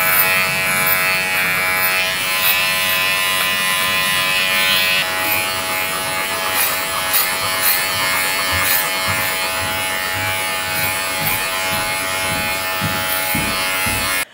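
Electric dog grooming clipper with a 3F blade running on a Bouvier des Flandres, a continuous close buzzing hum with slight shifts in tone as it moves through the coat.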